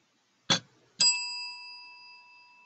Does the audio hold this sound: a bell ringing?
yes